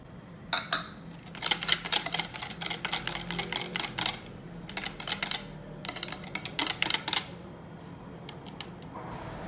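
A spoon stirs flour, sugar, salt and instant yeast in a bowl for Nutella star bread. It makes bursts of quick clicking and scraping against the bowl, separated by short pauses, close and fairly quiet.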